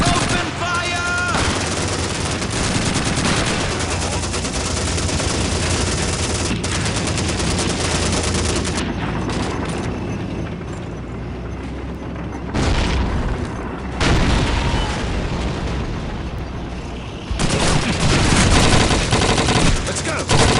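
Machine gun fire in the Call of Duty 2 video game: loud, dense, continuous bursts of automatic gunfire with booming impacts, running almost unbroken through the battle with brief dips.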